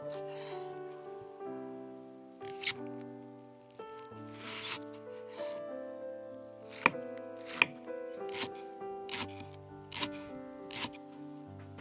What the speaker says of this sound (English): Mince a white portion of leek